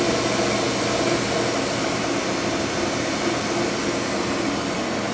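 A Haas VF3 vertical machining center spindle spins at 3000 RPM, giving a steady, even whirring hiss that stays constant throughout, close and moderately loud with no talk.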